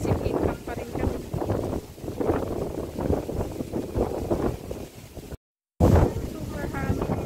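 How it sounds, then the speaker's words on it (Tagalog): Strong gusts at Luneta Park batter the microphone in heavy, rumbling bursts that rise and fall, with a voice speaking underneath and a brief dropout near the end. "Super hangin."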